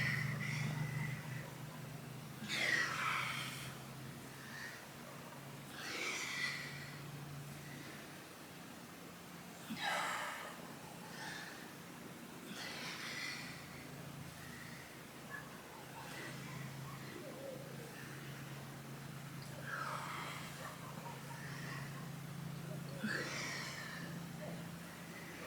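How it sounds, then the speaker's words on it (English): Heavy, rhythmic breathing, with repeated puffs and pants at a steady pace, comes from someone doing a strenuous seated kundalini yoga exercise. It is faint and close, over a low steady hum, with no talking. "Sorry for the heavy breathing."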